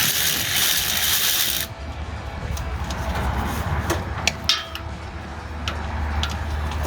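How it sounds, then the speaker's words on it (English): A hand ratchet wrench turns bolts on a Jeep Wrangler driveshaft during a CV joint repair. A burst of noise fades into soft, rapid clicking of the pawl with a few sharper metallic taps, close and moderately quiet. "And then we'll grab our ratchet and we'll see if we can get these."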